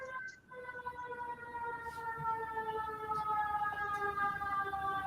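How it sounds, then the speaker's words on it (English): A fire engine siren wails at a distance, its steady sustained tone sliding slowly and gradually growing louder over a low background hum, with no talking. "That sounds like a fire engine."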